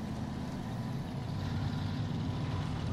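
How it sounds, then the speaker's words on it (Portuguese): Small truck in the off-road game Snowrunner accelerating, a steady heavy engine drone with a deep low rumble that holds continuously and loud throughout. "tá acelerando o caminhãozinho"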